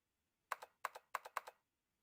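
Keyboard typing in the video game Zero Escape: Nine Hours, Nine Persons, Nine Doors, four short paired bursts of crisp key clicks, close and clear against near silence.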